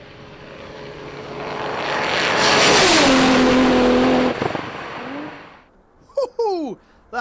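A car at full speed, hitting about 201 mph while racing an R34 Skyline on drag-race spec tyres at a 2004 top-speed event: a loud roar builds, then drops sharply in pitch as it passes, followed by a short excited shout.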